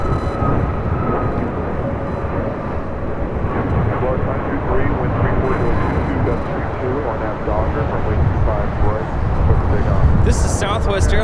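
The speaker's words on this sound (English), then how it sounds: "This is Southwest Airlines 336 taking off to Austin on a MAX 8" A Southwest Airlines Boeing 737 MAX 8 takes off at LAX, its engines a loud sustained roar and rumble that swells toward the end, with a voice talking over it throughout.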